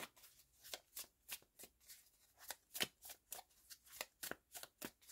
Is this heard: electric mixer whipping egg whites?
no